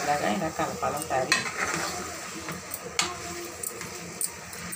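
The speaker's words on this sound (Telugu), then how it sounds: "మొత్తం మసాలా అంతా చేపలకు పట్టేలాగా ఇలా కలపాలి ఒకసారి" Fish pieces coated in masala are stirred in a sizzling frying pan, with repeated scraping strokes of a spoon and occasional clinks against the metal over steady frying.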